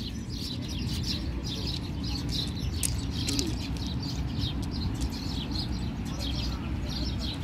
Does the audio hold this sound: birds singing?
yes